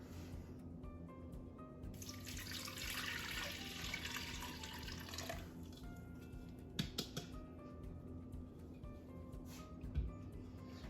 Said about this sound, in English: 2 cups of hot water.